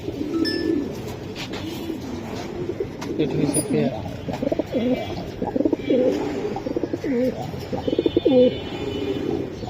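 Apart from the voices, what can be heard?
pigeons cooing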